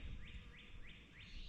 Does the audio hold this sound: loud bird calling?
yes